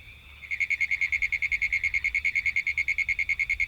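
Frogs croak at night in a fast, evenly spaced train of pulsed calls, loud and close, carrying on unbroken for several seconds with nothing else over them.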